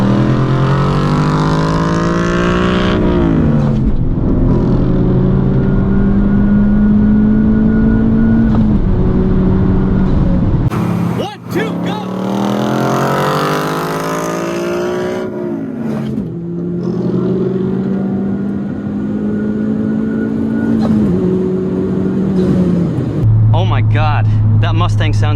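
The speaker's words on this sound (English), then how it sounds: "God, that Mustang sounds amazing." A tuned Honda Civic Type R and a 2020 Ford Mustang GT accelerate side by side in a third-gear roll race: loud, close engine roars climbing in pitch, broken by several gear-shift drops, with brief voices near the end.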